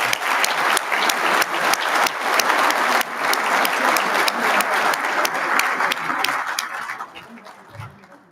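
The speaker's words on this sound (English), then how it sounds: "Go ahead and please join me in a round of applause." Sustained applause from a dinner crowd at a Marine Corps installations and logistics awards ceremony, dense steady clapping lasting several seconds before tapering off near the end.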